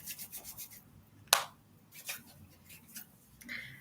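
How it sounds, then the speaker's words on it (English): Palms rubbing together during a guided meditation produce soft, close rasping strokes in a quick rhythmic series, then one sharper brush and a few quieter rubs, with no talking. "A little rub."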